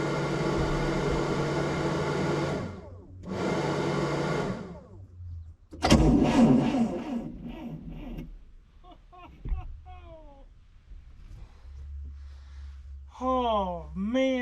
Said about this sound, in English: Motor's on.